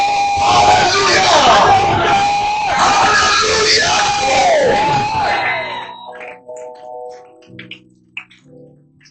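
Congregation at a French-language praise and worship service cheering and acclaiming loudly as a dense crowd for about six seconds, then the roar drops away to a few scattered voices and quiet.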